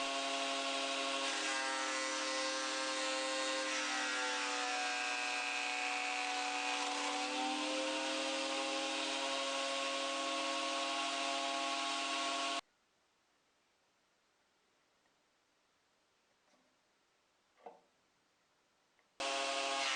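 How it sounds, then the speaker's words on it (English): A small jointer/planer machining a piece of LDPE plastic into glide pads for a table saw fence: a steady, loud motor whine with cutter drone for about twelve seconds, then sudden near silence with a faint knock. "And here planing a piece of LDP, which became the glide pads for my table saw fence."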